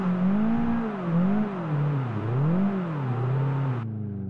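A Golf in the Live for Speed racing game drives while sliding sideways. The engine revs continuously, its pitch rising and falling in waves for about four seconds, then cuts off abruptly.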